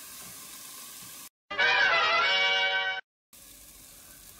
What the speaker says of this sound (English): we're gonna let these saute here for a little bit, brown them up